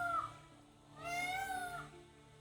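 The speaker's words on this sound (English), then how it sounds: "There's a cat or a bird in here somewhere." A cat meows twice in the Wartales video game, faint and alone, with a short first call followed by a longer, drawn-out one.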